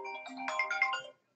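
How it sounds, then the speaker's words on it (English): A telephone ringtone plays clearly on its own, one short melodic burst of bright tones that ends abruptly. "Phone's ringing."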